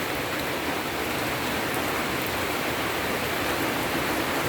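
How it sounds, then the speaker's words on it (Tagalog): Steady rain falls over farm fields in the countryside, a constant even hiss of drops without pauses or voices, moderate in loudness and unbroken throughout. "Ulan na malakas tapos hinto."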